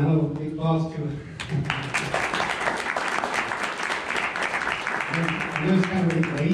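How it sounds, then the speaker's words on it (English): Audience applause at the close of a tech meetup talk on Apache Hudi data lakes; a dense, steady wash of clapping fills most of the stretch, with a voice speaking briefly before it and again as it fades. "Give a round of applause to it."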